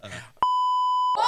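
A single steady censor beep, a pure tone held for about three-quarters of a second, sits loud between bursts of talking in a podcast conversation.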